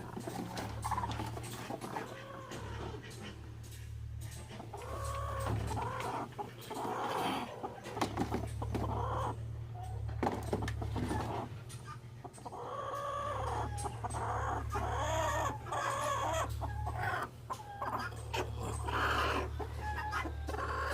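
Many chickens cluck and murmur continuously nearby, their calls rising and overlapping against a steady low hum.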